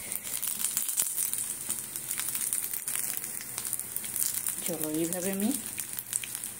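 Food fries in hot oil with a constant crackling sizzle and scattered pops, while a voice speaks briefly over it.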